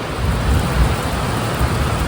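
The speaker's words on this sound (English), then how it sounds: "it's raining real good this morning" Heavy morning rain pours steadily over a home vegetable garden, a loud, continuous hiss with low rumbling undertones and no voices.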